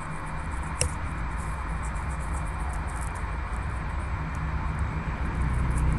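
Constant drone of aircraft engines in the strategy game Defcon, a steady low rumble filling the whole stretch with a brief click near the start and no talk over it.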